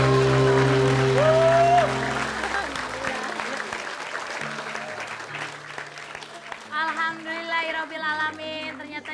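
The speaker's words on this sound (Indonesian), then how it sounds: "Kita kasih tepuk tangan untuk Ibu Dahlia" Audience applause on an Indonesian TV variety show, loud clapping that fades after about two seconds into scattered claps, with a voice speaking over it near the end.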